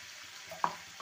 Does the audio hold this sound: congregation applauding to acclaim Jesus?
no